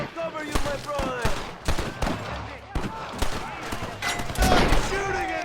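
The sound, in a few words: gunfire in Red Dead Redemption (video game)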